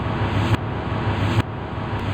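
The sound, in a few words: reversed sound like a long sweep, from video game Sprunki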